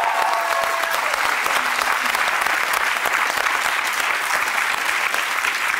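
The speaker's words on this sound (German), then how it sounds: "Applaus ganz vorne." Sustained applause from a studio audience at a live music-guessing game show, a dense, even clatter of many hands close by that holds steady throughout.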